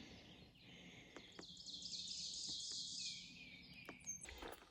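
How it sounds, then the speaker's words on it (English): Birds chirp and sing in a forest along the Appalachian Trail, with a continuous high twittering chorus and scattered sharp calls over a quiet background. "Listen to all those birds."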